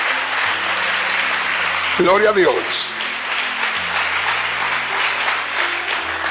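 A church congregation claps steadily throughout, with a preacher's voice briefly calling out over the applause in the middle.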